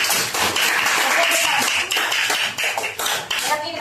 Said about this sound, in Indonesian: Bagi tepukan dulu.